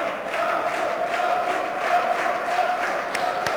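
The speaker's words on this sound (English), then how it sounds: "The Polish crowd there, always very keen supporters of their countrymen when they're doing well" A Polish crowd roars and cheers at the trophy presentation after a Grand Prix Vienna final, a dense, continuous wash of voices from a large audience that stays loud and steady throughout.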